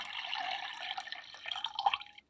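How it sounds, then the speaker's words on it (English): Liquid resin poured into a measuring cup from a regular-size mug, a soft steady trickle and drip that thins out and stops after about two seconds, quiet and close, with no talking. "I'm just going to pour this into my measuring cup."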